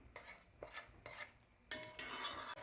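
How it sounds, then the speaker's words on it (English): A spoon stirs risotto with stock in a pan in repeated scraping strokes, roughly three quick swishes followed by a longer stir with a faint simmer underneath. The stirring is close and there is no talk. "Give it a good stir as we go along."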